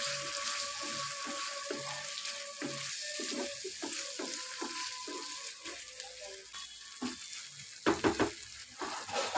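Sautéed onion and capsicum are stirred in a kadai, a spoon scraping and clattering in repeated strokes over a steady sizzle with no talking.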